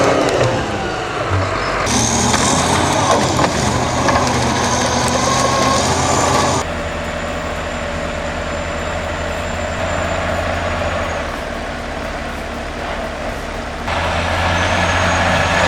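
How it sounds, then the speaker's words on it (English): A loaded logging truck climbs a muddy grade on wet tires, its turbo engine droning loud and near, with rising whine and changing load through several sections, no voices over it. "Listen to that turbo."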